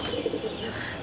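Soft pigeon coos, a few low murmuring calls in quick succession as the pigeons eat scattered grain, fairly close against a quiet outdoor background.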